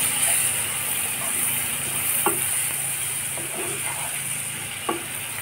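Chopped tomatoes sizzle in a pan of egg curry with potatoes while being stirred, producing a continuous frying hiss broken by a few light scraping knocks of the spoon.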